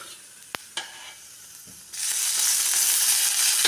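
Whole spices such as cumin, cloves, cinnamon and cardamom sizzle in a spoonful of hot oil in a pan for egg sambar, with a couple of clinks early on before the frying rises into a loud, steady hiss.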